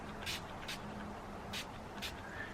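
Setting spray misted from a bottle during a full-coverage makeup routine, heard as four short, soft hissing puffs spaced unevenly over a quiet room background.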